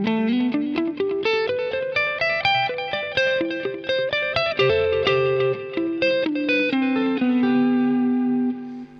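Electric guitar plays a melodic line through a Boss DD-500 digital delay pedal on the Plexi Echo preset, each note trailing warm repeating echoes with light distortion, sustained for several seconds before fading out.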